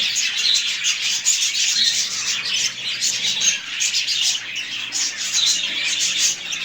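Budgies in a breeding setup with a single pair keep up a busy, overlapping stream of high chirps and squawky chatter, close and lively throughout, with no talking.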